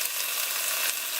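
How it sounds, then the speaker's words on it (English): Pork sizzling and frying in a pan in a van parked in the mountains, a close, steady, crackling hiss with no talking. "I'm cooking some delicious pork"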